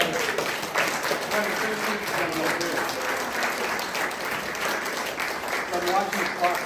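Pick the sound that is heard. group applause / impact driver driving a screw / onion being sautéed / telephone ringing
group applause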